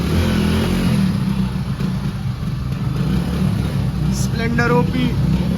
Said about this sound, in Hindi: हम लोग मोहित की बाइक से जा रहे हैं, और वो मुश्किल से स्टार्ट हुई है किसी तरीके से.